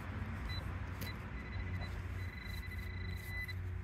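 Steady, low road-traffic rumble drifting over a park, continuous and fairly faint, with thin high tones flickering above it.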